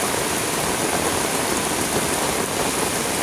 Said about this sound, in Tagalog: Mingaw ang kapaligiran guys kay ulan.